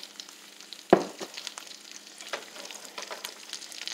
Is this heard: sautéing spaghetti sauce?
yes